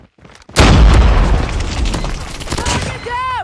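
A frag grenade detonates in a Call of Duty 3 vs 3 gunfight: a sudden, loud, close boom after a brief quiet lead-in, followed by a rumbling, crackling tail of debris and scattered game effects.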